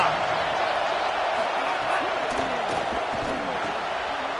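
Stadium crowd in the college football video game NCAA College Football 25, a steady dense roar of many voices with scattered shouts and whoops, continuous and loud under a commentator's voice.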